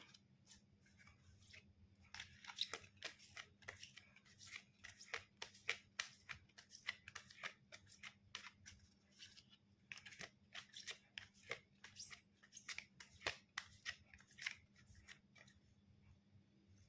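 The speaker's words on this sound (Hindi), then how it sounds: "चलिए कार्ड्स को करते हैं शफ़ल" A deck of angel oracle cards is shuffled by hand, producing many quick, soft, close riffling and slapping clicks in an irregular but continuous rhythm over a low steady background hum.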